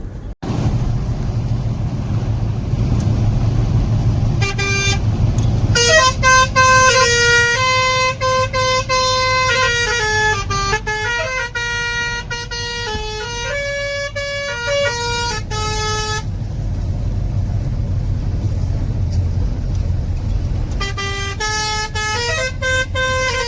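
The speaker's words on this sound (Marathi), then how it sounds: "मित्रांनो गाडी आली" A truck carrying Kathiyawadi goats pulls in, sounding loud horn blasts again and again, some long and some in quick bursts, over a steady engine rumble.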